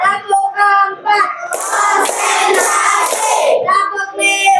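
A group of students in a classroom ice-breaking clap game claps together in a short rhythmic burst, bracketed by a leader's voice calling out the count before and after.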